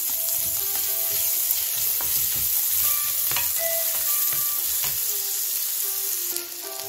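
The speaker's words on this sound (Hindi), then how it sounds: "इसमें अदरक डाल दें और इसको हिलाएं" Ginger and fried onions sizzle in hot oil in a pan, a steady loud crackling hiss broken by scraping stirs and occasional spoon clinks, with no voices.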